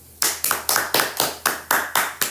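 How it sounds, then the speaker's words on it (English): A run of sharp, close hand claps, about nine evenly spaced, crisp, loud and alone, with a slight room ring after each one. "You got 2 claps."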